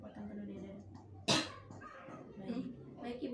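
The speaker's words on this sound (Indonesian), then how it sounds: "hembuskan secara perlahan dan batukan dengan kekuatan penuh dari dada" A single forceful cough from the chest bursts out sharply and loudly in the middle, between stretches of a person speaking quietly nearby.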